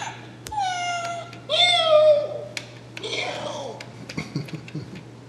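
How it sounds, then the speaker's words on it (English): A toy cat's electronic meow sounds twice when its button is pressed, in clear rising-and-falling tones, followed by a child babbling and soft voices nearby. "Press the button. There's the cat. Cat."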